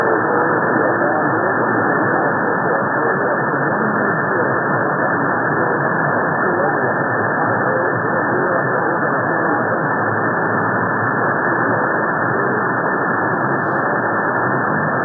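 Band-limited radio reception through a modified copper-tube MLA-30 active loop antenna on 160 meters, a continuous, loud hiss of static with a faint, indistinct voice buried in the noise for the full stretch.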